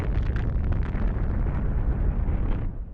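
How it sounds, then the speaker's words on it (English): A nuclear bomb blast in the alien invasion game Destroy All Humans!, a loud, dense, continuous roaring rumble with crackling debris that holds steady for nearly three seconds before starting to fade. "that is such a bad nuclear explosion"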